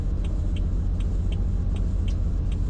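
A Tesla Cybertruck in the Roblox game Greenville gives off a steady, low engine drone that holds evenly throughout, with faint regular ticks above it and no talking.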